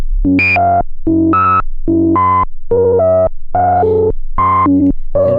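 ARP 2600 synthesizer running sample and hold against a triangle wave, producing a steady stepped rhythm of buzzy tones that jump in pitch every quarter second or so, loud and continuous with no talking.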